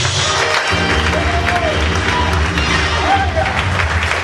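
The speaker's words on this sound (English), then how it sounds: "Clap for Jesus" A church congregation claps for Jesus during a prayer service, a dense, loud patter of hands running continuously under a sustained low musical drone from instruments.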